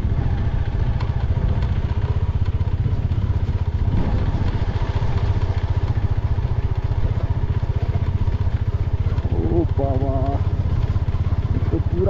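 A motorcycle creeps slowly in first gear along a frozen, icy stretch of the Leh–Manali highway in Ladakh, its steady low engine drone running throughout with clattering road noise and faint background voices.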